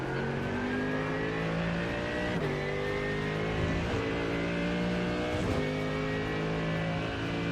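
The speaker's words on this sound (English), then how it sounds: "It's a faster car approaching." Several race cars in iRacing sim racing, IMSA at Daytona road course, with a faster car closing in: steady loud engine drone with rising and falling pitch, gear shifts roughly every one to two seconds, no talk.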